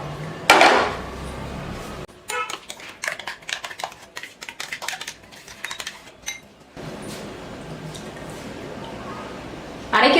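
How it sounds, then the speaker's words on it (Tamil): Ground peanut chutney scraped into a bowl: a run of clinks, taps and wet scrapes from a utensil against a grinder jar and dish, framed by quieter background at either end. "இப்போ ஒரு பவுலுக்கு மாற்றிக்கலாம்."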